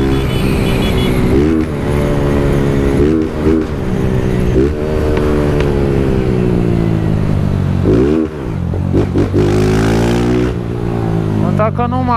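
A Honda Titan 160 motorcycle engine roars loudly and up close, revving up through several gear shifts with rising pitch sweeps and brief dips between gears, while someone talks over it.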